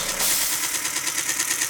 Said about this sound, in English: Let's turn the engine off for a minute.